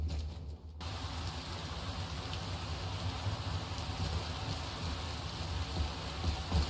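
Steady rainfall in the Skyrim game world, a soft, even hiss of falling rain on surfaces that fades in after a brief quiet moment and continues faintly with a low background rumble.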